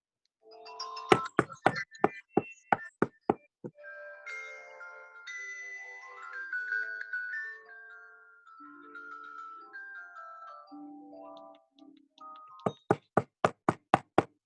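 Knuckles rap on a large appliance box as if on a door during a stage play reading, first in a quick run of about nine sharp knocks, then chiming musical tones, then another rapid burst of knocks.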